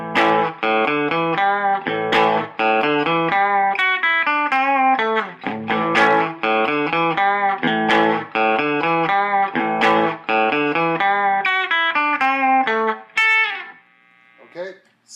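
An electric guitar on its bridge pickup alone, plugged straight into an amp, plays a steady stream of bright, clean picked notes and chords for about fourteen seconds, close and loud, then rings out and stops.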